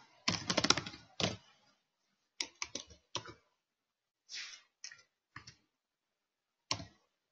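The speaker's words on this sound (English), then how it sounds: "so if I type this in" Computer keyboard typing: a quick cluster of key clicks, then scattered single taps and short bursts, close and crisp against near silence.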